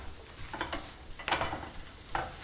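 Bean sprouts are stirred into a frying pan, producing a few brief scraping, rustling stir strokes over a low sizzle, close and moderately loud.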